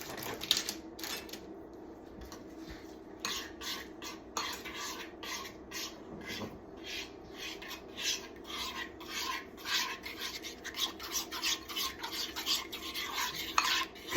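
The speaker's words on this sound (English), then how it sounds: "Chocolate chips. We're going to stir that around." A spoon rasps and scrapes steadily through thick brownie batter as chocolate chips are stirred in, a close, repetitive rubbing sound with no talking.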